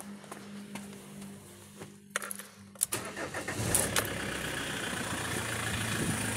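After some faint clicks and a brief crank, a 2001 Peugeot Boxer van's 2.8 HDI diesel engine starts up nearby and settles into a steady, rumbling idle.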